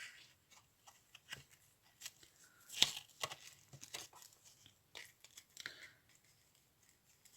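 Scissors snip through organza ribbon for a small handmade mini album, quiet irregular cuts and crisp fabric rustles close by, with one sharper snip standing out.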